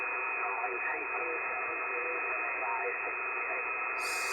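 Steady hiss of ham radio band noise on a Yaesu FT-450, with a faint, muffled voice calling CQ buried in the static, unbroken for the whole stretch.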